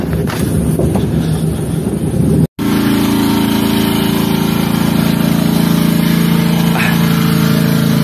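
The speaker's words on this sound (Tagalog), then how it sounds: "Ayan na yung motor natin. Grabe. Ang lakas ng makina." A loud motorcycle engine runs steadily and close, with a brief cut partway through before the throaty roar resumes.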